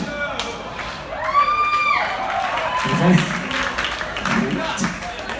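Audience at a live show at Ace of Spades in Sacramento, California, breaking into applause and cheering under a speaker's voice, a rising wash of crowd noise that peaks midway and then settles.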